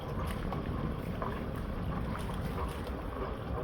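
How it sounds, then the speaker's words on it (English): Strong wind roars steadily past a boat at sea off Lossiemouth, a loud, continuous rushing with buffeting across the microphone and no talk. "the wind is blowing quite strong, it's not horrible"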